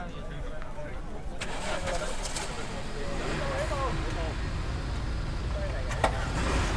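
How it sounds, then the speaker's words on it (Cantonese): Rally cars in the 2025 Hong Kong–Beijing rally arriving at the bamboo sea scenic area near Yiyang, with engines running and revving under steady nearby talk. "所有賽車都順順利利到咗竹海景區。"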